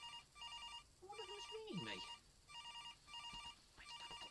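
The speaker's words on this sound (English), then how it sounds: "Oh, that's my phone" A mobile phone ringtone plays a repeating electronic chime in regular bursts, with a brief voice and some rustling partway through in a lighthouse setting.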